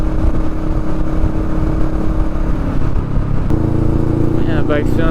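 Steady engine drone and wind rush from a motorcycle cruising smoothly on the road, continuous and close throughout, with a brief higher whine near the end.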